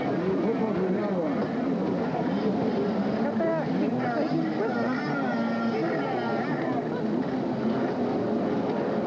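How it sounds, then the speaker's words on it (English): Jet skis racing laps at a national championship course, a continuous wavering engine whine over the water, steady and moderately loud throughout. "Campeonato Nacional de Jet Ski"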